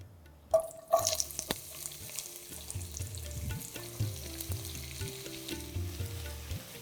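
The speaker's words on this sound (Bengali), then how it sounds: "এরপর পেঁয়াজের মধ্যে 1 চা চামচ নুন দিয়ে এটাকে ভালো করে ফ্রাই করতে থাকুন।" About 300 grams of onions fry in a few spoonfuls of white oil in a wok, a soft continuous sizzle with a couple of louder splashes at the start and intermittent stirring scrapes.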